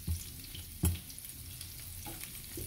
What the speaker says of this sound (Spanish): Aquí la voy a guisar en esa grasa.